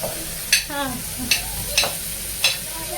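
Carrots tumble into a hot pan for masala khichdi pulao and are stirred amid a steady sizzle, a spatula clanking sharply against the pan four times in an uneven rhythm while faint speech drifts beneath.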